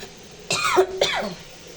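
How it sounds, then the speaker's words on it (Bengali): Two quick, close coughs in succession, sharp and raspy, with quiet moments before and after. "একটু কাশি হয়েছে"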